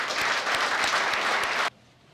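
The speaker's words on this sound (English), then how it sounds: "Let's give all of these people a round of applause again" Audience applause at a police officers' awards ceremony given by the police chief: dense, steady clapping from a crowd that continues evenly, then cuts off abruptly into quiet room tone.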